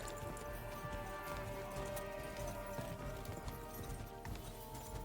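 A horse gallops in the video game Kingdom Come: Deliverance 2, with rapid rhythmic hoofbeats. The clip-clop runs continuously and fairly quietly over a busy background, with no talk.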